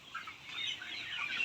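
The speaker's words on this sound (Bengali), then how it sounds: "এই মুরগিটা কিন্তু আজকে আমাদের বয়স হচ্ছে 70 দিন।" Layer pullet chickens cluck and chatter on a poultry farm, a faint, continuous flock murmur without talk.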